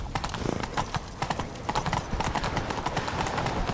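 Horse hooves clip-clop in a quick, uneven galloping rhythm in a Witcher 3 gameplay chase, fairly quiet with a brief whinny and faint game sounds around them.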